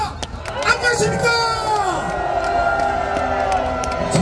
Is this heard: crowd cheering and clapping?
yes